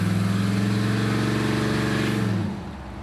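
A loud, raspy 1971 Cadillac Sedan DeVille engine with its exhaust wired open drones steadily at close range, then its roar drops off sharply near the end.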